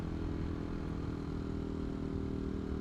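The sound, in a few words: CCM Maverick motorcycle engine running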